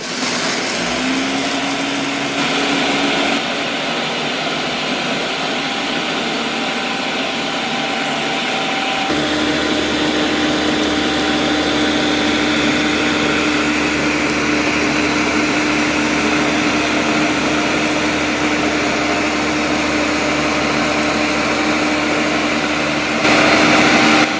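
A Ninja Detect blender churns peanuts into peanut butter, a loud, steady motor whine that shifts pitch a few times as the load changes and runs alone, without talk.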